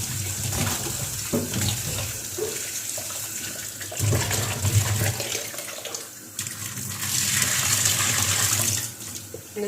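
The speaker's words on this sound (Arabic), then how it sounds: "انا ديما خوتي مع الملوخيه كنبقى نغسل ونعاود نغسل ونعاود" Molokhia leaves washed under running tap water in a home kitchen: continuous splashing and gurgling stream with swells of rushing water and handling noises, close and fairly loud, no talk.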